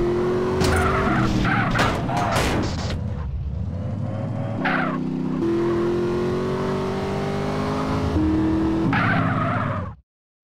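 A car driven fast in GTA San Andreas, its engine revving and whining continuously with repeated tire squeals and skids as it accelerates through turns, loud and close, then cutting off abruptly at the end.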